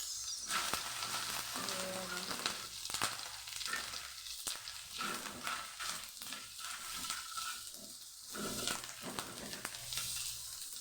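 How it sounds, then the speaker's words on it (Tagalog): Garlic and onion fry in a pan for pancit, a continuous crackling sizzle with frequent small pops and occasional stirring scrapes, fairly close and steady without talk. "ilalagay na natin ang ating bawang sibuyas"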